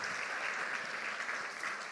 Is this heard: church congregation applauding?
yes